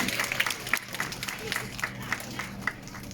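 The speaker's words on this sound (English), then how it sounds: "Do you reckon we could give Nellie a nice big cheer for that?" A small audience at a fur seal show at an aquarium in Rhyl claps and cheers for Nellie the seal, a short burst of scattered claps and whoops with a presenter's voice mixed in.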